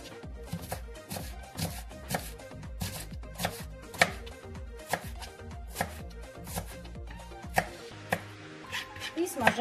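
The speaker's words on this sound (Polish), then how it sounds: "Drobniutko pokroić." Knife finely chopping onion on a cutting board for Ukrainian borscht, a steady run of quick, crisp close-up strikes continuing throughout with no talk.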